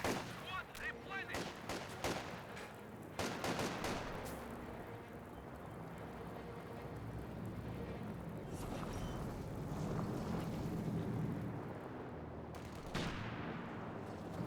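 Grenadier infantry firing in Company of Heroes 2, scattered bursts of rifle and machine-gun fire with louder blasts early on, over a steady rumble of battle noise, with some voices in the mix.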